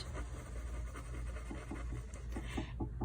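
Pencil or crayon scratching on paper while sketching sand, a steady close rasp of short repeated strokes with no talking.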